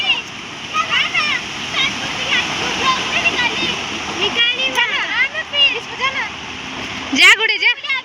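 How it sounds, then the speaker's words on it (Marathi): Rain-swollen stream rushing in flood after heavy rain, a continuous loud splashing roar close by, with children and adults talking over it throughout. "वड्याला तर खूपच पूर आलेला आहे."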